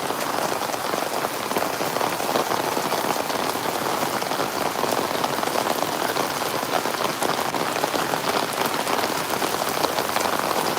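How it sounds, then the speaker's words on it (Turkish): Dense, steady downpour of hail and rain drumming hard on a surface, loud and unbroken throughout with no voices. "Hayır dolu yağıyoruz burada."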